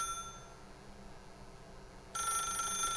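A telephone ringing in the video game The Stanley Parable, a faint tone that turns into a louder, bright electronic ring partway through.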